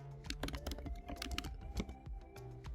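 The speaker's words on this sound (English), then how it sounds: "on the first line you would type Grant Wood" Fingers tap out a short burst of keystrokes on a computer keyboard, quiet, close clicks in an uneven rhythm with brief pauses between them.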